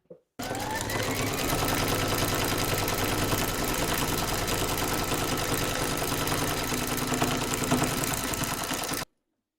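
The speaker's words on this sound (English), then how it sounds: "Pop your hoop into your machine and stitch round number 5 to secure it" An embroidery machine stitches round five on a hoop for a mandala glasses case in light brown thread, a steady, fast, close mechanical whirr with rhythmic needle clatter running unbroken for about nine seconds before stopping.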